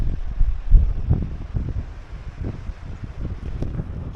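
Strong, cold wind buffets the microphone at Lucky Bay in Cape Le Grand near Esperance, Western Australia, producing uneven low rumbling gusts that swell and fade continuously.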